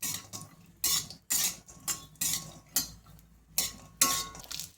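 Grated carrots fry in a little white oil in a pan for carrot halwa while a utensil stirs them, giving rhythmic bursts of close scraping and clinking against the metal, with no talk.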